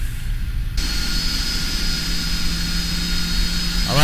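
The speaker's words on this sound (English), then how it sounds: "There goes engine number 1." A PMDG 747-400 jet engine spools up in the Prepar3D flight simulator, a steady broadband roar with a sustained high whine that rises in and holds, loud and continuous with no talk.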